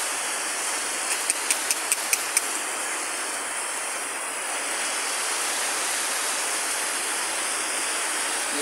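Steady, dense roar of heavy typhoon rain pouring down, loud and constant, with a quick series of faint clicks early on.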